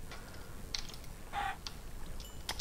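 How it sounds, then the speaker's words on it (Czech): A chicken is struck and killed in Minecraft, giving a few faint, short clucking hurt sounds and soft clicks spread over a couple of seconds, with no talking. "Slepičku si zabijeme."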